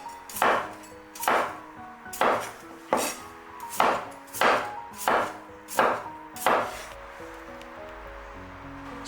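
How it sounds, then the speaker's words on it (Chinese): Potatoes chopped into chunks with a knife on a cutting board: about eight firm, evenly spaced chops, close and clear, with no talking. "再放至菜板上，切成小小的大块就可以啦"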